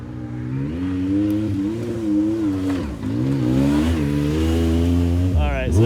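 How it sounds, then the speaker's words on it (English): A purpose-built car called the Danger Ranger, a $500 destruction car, revs and accelerates hard with a loud, continuous engine drone whose pitch climbs and dips through gear changes. Voices talk over it near the end. "So that's in a purpose built vehicle. Here we go in the Danger Ranger."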